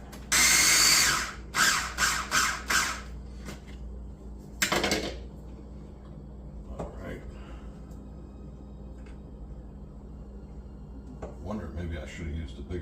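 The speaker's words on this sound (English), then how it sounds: "All right, just a couple of washed baby carrots. Let me whiz that around for a second." A small food processor whizzes a couple of washed baby carrots in several loud, choppy bursts, followed by a sharp clatter and quieter kitchen handling sounds.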